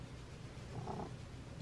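A cat purrs up close with a low, rumbling, slightly gurgling throb, quiet and steady throughout.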